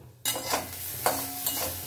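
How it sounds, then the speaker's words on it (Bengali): Sajne charchori, a drumstick vegetable dish, stirred and fried in a wok, a soft sizzle with a few scraping stirs of the spatula at steady intervals, quiet and close with no talk. "অনেকক্ষণ হয়ে গেছে ভাজা, এবারে নামিয়ে দেব"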